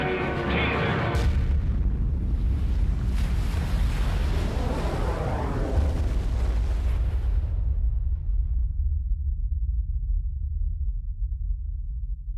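A 10-megaton nuclear bomb test explosion produces a loud, broad roaring blast that rumbles on for several seconds, then fades into a low, distant drone.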